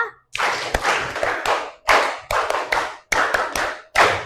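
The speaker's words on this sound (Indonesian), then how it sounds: "Tepuk berpola, ada yang tahu?" A classroom group claps in a patterned rhythm, bursts of clapping broken by short pauses into repeated groups, close and lively, with sharp single claps marking the pattern.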